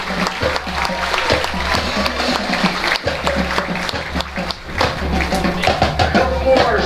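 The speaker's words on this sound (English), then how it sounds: "One more round of applause for the Lincoln High School Marching Blue Band." An outdoor audience at a county band festival applauds a high school marching band, scattered clapping with some thuds and taps, fairly close and steady over a low rumbling background.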